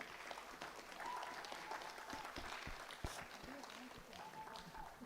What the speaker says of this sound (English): Applause for him.